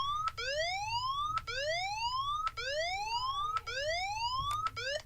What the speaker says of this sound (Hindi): ये मैंने मोबाइल को उठाया और अलार्म बजना शुरू हो गया।